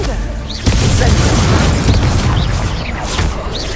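Confringo fire spell explosions in Hogwarts Legacy on PS5, heard as a loud, dense, continuous roar of blasts and booming combat noise, close and filling the whole moment.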